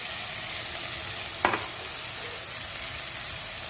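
Spices stir-frying with a paste of cashew, poppy seed and mustard, a continuous close sizzle with one brief scrape of a spoon in the pan, steady and moderately loud, no voices.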